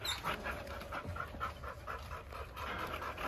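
A seven-month-old ticked merle female dog pants softly and steadily in rapid breaths, faint and close, with light background noise.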